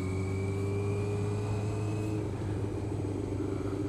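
A car fitted with a new aftermarket exhaust drones steadily at close range, its low engine note holding level with a slight rise in pitch partway through, no voices over it.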